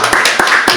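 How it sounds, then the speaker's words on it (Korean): Short burst of hand clapping from a church congregation welcoming a newcomer, several close claps in an uneven rhythm, brief and fairly loud. "한번 환영의 박수 드릴까요?"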